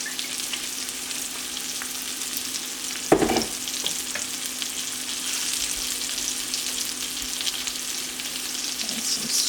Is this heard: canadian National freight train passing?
no